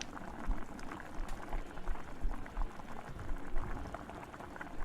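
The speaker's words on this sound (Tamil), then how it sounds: "அடுப்பை நல்லா ஹை ஃப்ளேமில் வச்சு ஜவ்வரிசியை நல்லா கொதிக்க விடுங்க" Water with sago bubbling at a vigorous rolling boil over a high flame, a steady dense crackle of bursting bubbles close by, with no voices.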